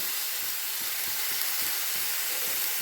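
Tomato paste sizzles and fries with spices in a pan for a prawn do-pyaza, a soft, steady hiss with faint periodic stirring scrapes, no talk.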